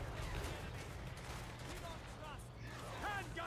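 Handgunner units firing volleys in the strategy game Total War Warhammer 3, a constant distant crackle of massed musket fire amid battle noise, with a voice talking over it.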